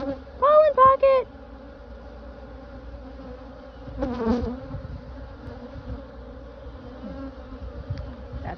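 Honeybees buzz continuously and close during a beehive inspection as frames are checked. A person's brief vocal sounds cut through near the start, and the buzzing swells again partway through.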